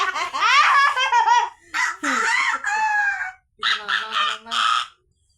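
A voice imitates a rooster's crow in several rising, warbling bursts, loud and close, with short pauses between calls.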